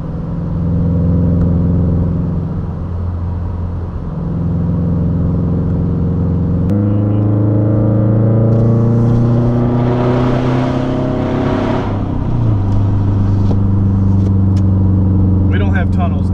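A Subaru Impreza accelerates under a small bridge: a close, steady engine drone climbs in pitch as the revs build, then settles before rising again, with a voice talking over it.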